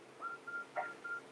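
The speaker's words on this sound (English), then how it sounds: "Phone's ringing." A telephone rings in a Breaking Bad television scene, a quick run of short, soft electronic beeps repeating at a steady pace, faint and slightly muffled.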